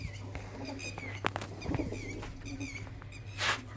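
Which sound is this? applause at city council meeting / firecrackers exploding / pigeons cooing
pigeons cooing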